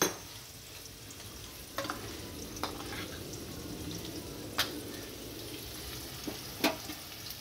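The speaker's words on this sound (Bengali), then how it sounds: "আলুগুলো ভাজা হোক" Potatoes fry in a pan on a home stove with a steady, low sizzle throughout, broken by a few soft clicks and taps from stirring.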